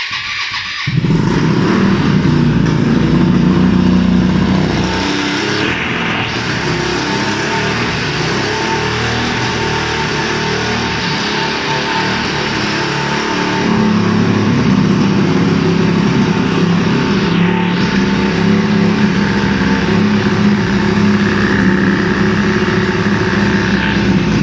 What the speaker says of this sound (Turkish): motorumuzda ilk marşımızı basıyoruz